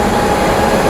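A delayed train, hauled by a WAP-7 locomotive from the Royapuram shed, pulls into Thrissur station on the Pollachi to Guruvayur route. It makes a steady, loud, broadband rumble and roar with no voices.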